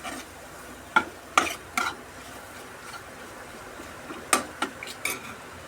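Garlic pickle being stirred in plenty of oil in a pan, a handful of short, sharp scrapes and clinks of the spoon against the pan, grouped in two bursts over a faint background hiss, with no talking.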